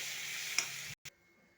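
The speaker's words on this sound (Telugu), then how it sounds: "మిక్సీ చేసుకున్న దాన్ని అయితే మనం ఈ పోపులో కలిపే కలిపేసుకోవాలి" Ground tomato and green chili paste stirred into a hot tempering in a pan, giving a steady sizzle with scraping for about a second before an abrupt stop and a brief final scrape.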